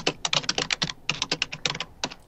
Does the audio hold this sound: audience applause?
no